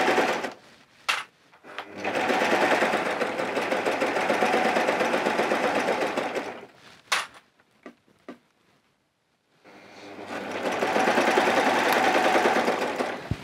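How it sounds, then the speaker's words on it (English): Serger sewing along fabric edges and trimming as it goes, with two long runs of fast steady mechanical whirring split by a pause holding a few clicks and quiet handling. "I'm just going to sew, making sure, or serge, making sure I'm catching both edges as I go along"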